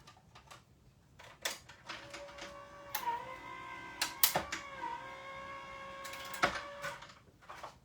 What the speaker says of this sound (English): I can run them all through at the same time, so it's only going to take one run through on the machine.